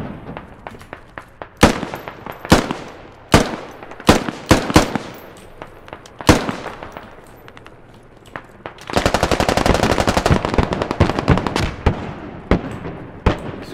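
Gunfire from the Squad military shooter game during a U.S. assault on the outskirts of Tallil: loud, close single rifle shots at irregular intervals, then a sustained burst of rapid automatic fire, followed by more scattered shots.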